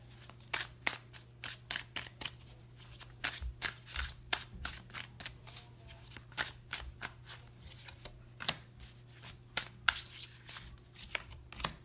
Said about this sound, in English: I'll finish pulling the cards and then I'll give you the reading or the message.